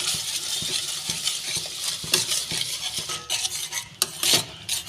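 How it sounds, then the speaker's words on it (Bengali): Ginger, garlic and cashew spice paste with ground coriander, cumin, garam masala, turmeric and chilli frying in a pan, with rhythmic spatula taps and scrapes against metal over a light sizzle. "আমি এই মশলাটা ভালো করে কষিয়ে নেব।"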